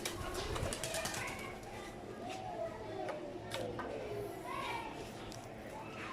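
Pigeons landing on a window corner coo softly nearby with light fluttering and a few taps as they settle, all fairly quiet, with faint voices in the background.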